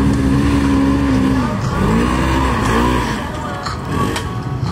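An SSV side-by-side vehicle races up a hill climb course, its engine loud and close as it revs and changes pitch through shifts, with a voice talking faintly underneath.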